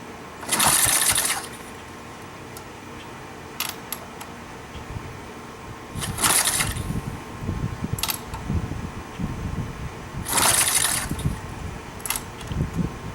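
A rebuilt 1955 Cushman Eagle engine runs with a steady mechanical drone, broken by three sharp hissing bursts spaced a few seconds apart and a few quick clicks, with no talk over it.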